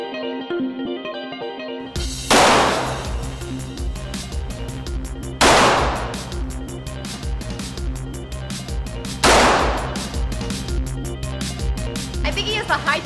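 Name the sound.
gunshots from Ruger Mark III target pistol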